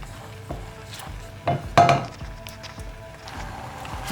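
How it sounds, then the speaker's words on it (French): A spoon clinks and scrapes in a saucepan of butter and water coming to a boil for choux pastry, scattered knocks and taps up close, one louder clatter midway, no voices. "Je remue parce que ça commence à bouillir."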